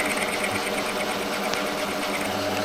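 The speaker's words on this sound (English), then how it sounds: "I'm just now milling the two spanner flats across this centre part of this nut" A milling machine cutting two spanner flats across a nut on a brake shaft for a Harley part, a steady whirring mechanical hum with a rapid rhythmic chatter, close and continuous.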